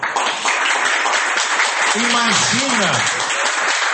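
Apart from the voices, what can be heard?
congregation applauding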